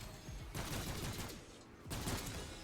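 SVD rifle firing in full auto in Black Ops 6 Zombies, a fast, continuous burst of shots in two stretches separated by a brief pause, moderately loud.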